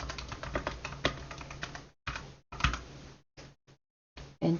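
Keys clatter on a computer keyboard while a PowerPoint 2016 practice exercise is typed, coming in quick close bursts of clicks separated by short silent pauses.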